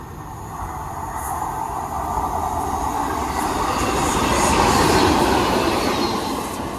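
A pair of Class 90 electric locomotives thunders through Wigan North Western station, a loud, continuous roar of wheels and rail rumble building to a peak near the end, with no talk over it.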